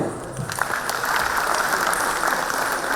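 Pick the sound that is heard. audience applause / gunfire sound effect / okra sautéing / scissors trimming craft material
audience applause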